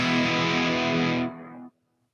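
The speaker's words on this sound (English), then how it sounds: "I get the tail end of the reverb." A NUX MG 400 guitar effects unit: a loud, distorted guitar sound rings steadily, then the reverb tail decays briefly before cutting off abruptly into silence.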